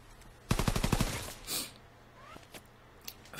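A short, rapid burst of automatic gunfire from a World War II-era shooter video game, about seven close, sharp shots in quick succession followed by faint scattered game effects.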